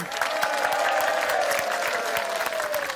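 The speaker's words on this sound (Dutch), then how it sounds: "Dames en heren, mag een heel hard applaus voor Reinhard van Assendelft, de koning." Loud, dense applause from an outdoor summer event audience, continuous and even throughout, with a faint sustained tone running underneath.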